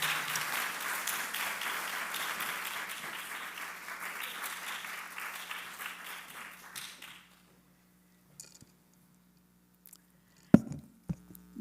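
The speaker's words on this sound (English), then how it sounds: "please join me in giving a warm introduction and applause" Applause from an awards ceremony audience welcoming a speaker to the stage, steady dense clapping for about seven seconds before it dies away, followed by near silence and a couple of sharp knocks.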